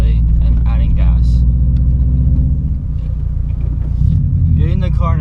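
A manual car pulls away in second gear as the clutch is eased out and gas added, a close, loud engine rumble rising steadily under a person talking throughout.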